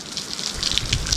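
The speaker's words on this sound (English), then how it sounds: "it is pouring outside" Heavy rain pours down outside a garage under construction, a brief, dense, steady hiss of drops spattering on surfaces.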